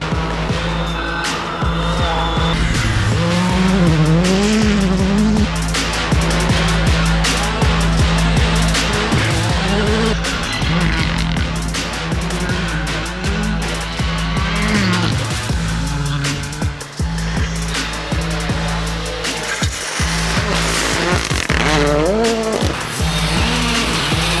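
A Rally 2 race car drives hard at speed on a rally stage near Sarıkamış. The engine roars loudly and continuously throughout, with shifting pitch and bursts of tire noise.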